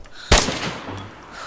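One sharp, loud video game gunshot cracks close by, then its echo fades into a quiet background.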